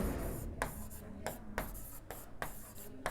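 A teacher writes on a board during an English grammar lesson, making a rhythmic series of scratchy strokes separated by short pauses, close and fairly quiet over a low room hum.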